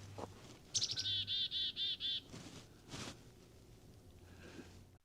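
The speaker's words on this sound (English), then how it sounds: "Oh, here are the chickadees." Chickadees call outdoors, a bright run of rapid, whistled notes repeated in a quick series, followed by a few softer chirps, with faint background hum and rustling.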